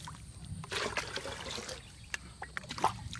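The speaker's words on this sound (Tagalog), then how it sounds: "kukuha tayo ng tubig na ipandidilig natin doon sa pagpupunla natin ng pechay." Water trickling and splashing as it is fetched for watering pechay seedlings in a garden plot, an uneven run of small pours and drips with a few sharper splashes near the end.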